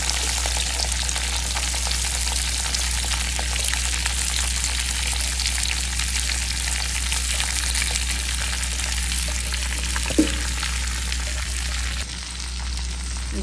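Onions and okra fry in a pan with a loud, constant sizzle. A brief scrape of stirring comes near the end, heard close with no speech.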